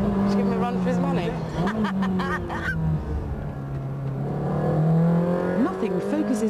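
A Ferrari 360 Challenge Stradale driving on the road with a camouflaged test car chasing behind, its engine a sustained loud drone with shifting pitch under someone talking throughout.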